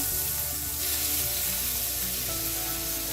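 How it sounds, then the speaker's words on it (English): Steady, dense sizzling of red potatoes frying in hot olive oil, close by and continuous, with a faint background hum and no talking. "one on the left with some olive oil for my potatoes. So it's hot. I'm going to add the potatoes in"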